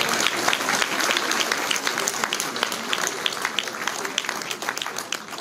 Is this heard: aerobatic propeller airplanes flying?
no